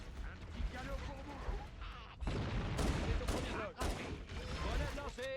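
Dense gunfire in the Halo video game, a rapid chatter of shots and clanking mixed with chirping alien weapon effects, growing louder and busier partway through. No voices can be made out.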